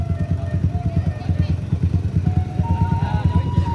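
Close, throbbing motorcycle engine putter with a steady pulsing rhythm on a steep mountain road between Solok and Pesisir Selatan, a higher whine rising near the end.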